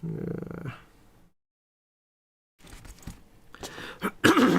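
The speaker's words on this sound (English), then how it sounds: "Let me clear my throat." A man clears his throat with a short, close, rough burst, then goes silent, followed by further throat noises and a sharp cough-like burst at the end.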